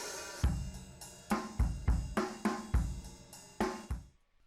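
Drum kit captured with a stereo microphone, played in a steady pattern of roughly a dozen punchy hits with kick and cymbal wash, sounding close and loud, then ringing out into silence.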